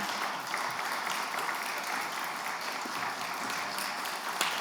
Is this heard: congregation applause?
yes